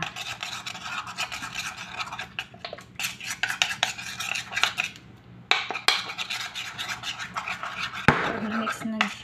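A spoon scrapes and clinks rapidly against a small bowl, mixing a lemon juice face mask, with irregular close-up taps and scratches.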